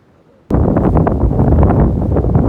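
Sudden loud gusting wind buffets the microphone after a brief quiet moment on a bridge along the Appalachian Trail, a rough low roar that continues unbroken to the end.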